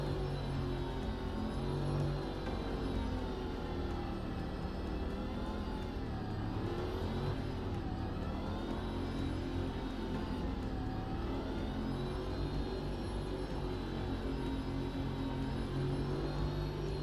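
BMW engine in a racing video game, revving hard and whining continuously through gear changes, loud and steady with no voices over it.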